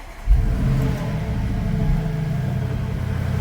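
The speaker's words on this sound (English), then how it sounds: "We'll just start the car up." A 2019 Bentley Bentayga 4.0 V8 starts with a sharp low burst, then settles into a steady, deep engine rumble that holds close and loud throughout.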